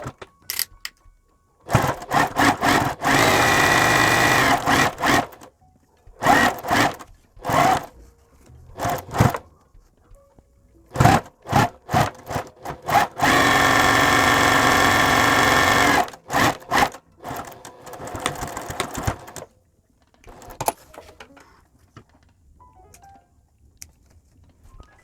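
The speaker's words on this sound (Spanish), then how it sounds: "Vamos a iniciar cosiendo en el borde" A sewing machine runs in bursts while stitching along the edge of a homemade cloth face mask, with several long steady runs of stitching broken by short starts and stops and quiet pauses in between.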